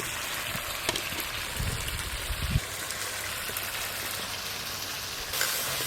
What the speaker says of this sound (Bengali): খুলে আবার নেড়ে দেবো, নাহলে নিচে লেগে যাবে। খিচুড়ি ঘন ঘন নাড়তে হয়।